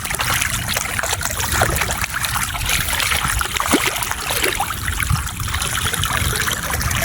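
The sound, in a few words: water draining from a flooded paddy field through a cut embankment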